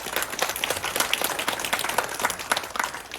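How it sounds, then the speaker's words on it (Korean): Audience at a book award ceremony gives warm, steady applause, dense overlapping claps continuing evenly at moderate loudness throughout. "다시 한번 뜨거운 박수 부탁드립니다."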